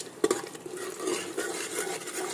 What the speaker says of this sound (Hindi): अब इसमें हम ये मसाले मिलाएंगे और इनको अच्छे से कुक करेंगे